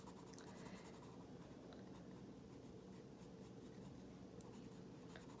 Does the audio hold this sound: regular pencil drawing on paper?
yes